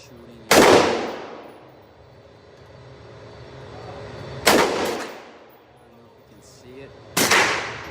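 Gunfire at an outdoor shooting range: three loud, sharp shots spaced a few seconds apart, each with a long fading echo, with quieter background noise between.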